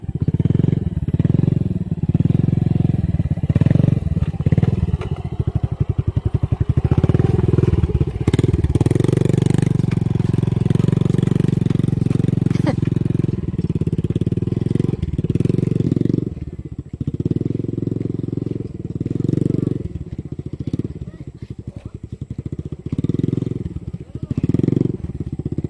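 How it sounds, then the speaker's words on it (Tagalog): A motorcycle grinds along a rough, broken rural road, its engine droning steadily with clattering and thumping from the bumpy surface throughout, close and loud, with a few voices heard faintly at times. "ako na lang po ang magdadrive ng motor sapagkat talagang mahirap na ang daan"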